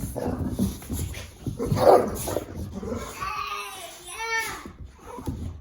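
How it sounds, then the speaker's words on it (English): Dogs bark and yip excitedly at close range, a few sharp barks followed by higher whiny yelps, with some background noise. "Hyper puppies."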